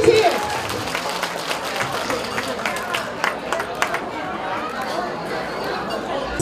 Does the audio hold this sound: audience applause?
yes